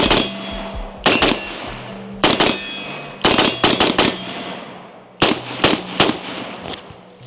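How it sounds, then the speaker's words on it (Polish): Sharp, loud shots from a CQ-A 15 airsoft rifle crack out in short bursts of two to four, with brief pauses between groups and a faint metallic ring after each. "Rozgrzejmy się trochę, parę strzałów."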